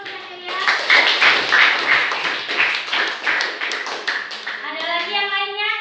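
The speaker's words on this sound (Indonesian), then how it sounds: "Tepuk tangan dulu untuk Cecilia." A classroom of children claps for a student in a brisk, rhythmic round of applause, with kids' voices mixed in and a voice rising at the end.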